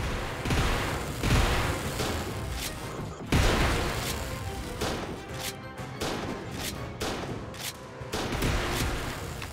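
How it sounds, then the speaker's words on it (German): Strong right-click tower shots in the tower-defense game Fortified fire in a dense, loud barrage of booming gunfire-like blasts, with sharp cracks at irregular intervals over a continuous roar of battle noise. "Dass er mit Rechtsklick so einen starken Schuss hat, ist allerdings schon cool."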